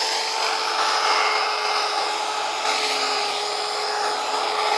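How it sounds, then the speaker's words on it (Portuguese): A small handheld car polisher works marble and granite, giving a steady high whine with a gritty hiss, close and constant throughout, with no talking. "uma lixadeirinha pequenininha que você tem em casa para fazer polimento de carro"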